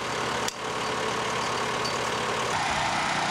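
A farm tractor carrying scaffolding runs on hilly ground while fence work goes on, its engine a steady, loud, low rumble that is close and continuous throughout, with no talk.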